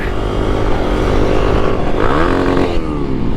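A Kawasaki motorcycle, a Ninja 400 or KLX 300, accelerates hard nearby, its engine note loud and steady and rising in pitch through a gear change with a brief dip before climbing again, alone without voices.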